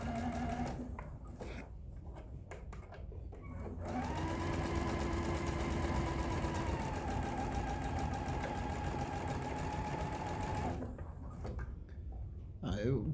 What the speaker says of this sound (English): tie a knot, and continue my sewing